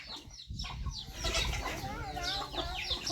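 Chickens on a rural homestead clucking close by in the late afternoon, with a busy, overlapping run of calls and possible wing flutter against outdoor background noise.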